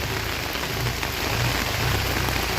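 Heavy rain pours steadily beside the flooding Muhuri river in Belonia, a dense, loud, unbroken hiss with no voices over it.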